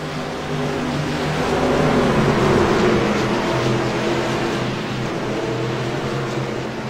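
Race cars accelerate together at a green-flag start as the pace car pulls off, a dense, loud engine roar that swells and holds steady with layered revving.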